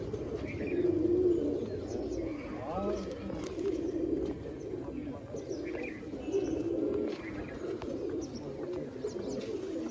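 Pigeons kept for sale at a pigeon show, cooing softly with occasional chirps amid a busy, murmuring crowd; people talk nearby throughout.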